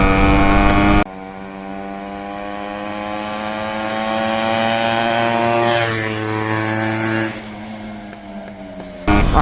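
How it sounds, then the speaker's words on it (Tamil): A Yamaha RX 100 motorcycle engine drones steadily while riding, loud and close. It rises in pitch as the bike speeds up, then drops off toward the end. "RX 100 லவ்வர்ஸ்க்குலாம் இது ரொம்ப பிடிச்ச சவுண்ட் தான்."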